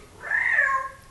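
A pet cat lets out a single clear meow, rising and then falling, close to the microphone in a quiet room.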